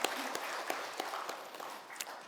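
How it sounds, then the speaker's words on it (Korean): A church congregation applauding during a Sunday worship service, a brief, fairly faint burst of scattered clapping heard from a distance. "크게 하나님께 영광의 박수를 돌리겠습니다."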